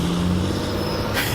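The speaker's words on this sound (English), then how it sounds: "that's a FedEx van" A FedEx delivery van driving past near a construction site, a steady low engine rumble with broadband road noise that brightens briefly at the end.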